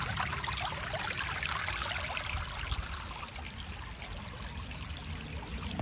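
Foamy creek water flows steadily in a continuous rushing, gurgling stream, close and fairly loud throughout with no voices.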